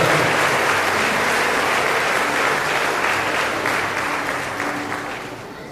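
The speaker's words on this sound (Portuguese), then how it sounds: "Então uma salva de palmas no Maurino." Church congregation clapping together during a Mother's Day service, a loud, dense round of applause that holds steady, then gradually tapers off near the end.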